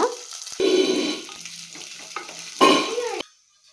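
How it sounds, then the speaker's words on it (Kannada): Moong dal roasting in ghee over a medium flame, with a spoon stirring and scraping the pan in a few loud close strokes over a low sizzle, ending in near silence. "ನೆಕ್ಸ್ಟು ನಾವು ಹೆಸರುಬೇಳೆ ಹಾಕ್ಕೊಂಡು ಮೀಡಿಯಮ್ ಫ್ಲೇಮಲ್ಲಿ ಇಟ್ಕೊಂಡು ನಾವು ಬಿಡದೆ ಕೈ ರೋಸ್ಟ್ ಮಾಡ್ಕೊಬೇಕಾಗುತ್ತೆ ಕೆಂಪು ಬಣ್ಣ ಬರೋವರೆಗೂ"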